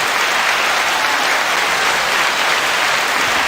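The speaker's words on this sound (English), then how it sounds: "Gotta put the little clap on it." Steady, loud applause from an audience for a podcast guest, dense and even clapping that runs unbroken for several seconds with no talk over it.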